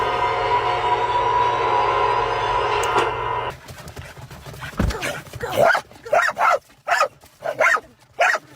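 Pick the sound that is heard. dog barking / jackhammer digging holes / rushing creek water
dog barking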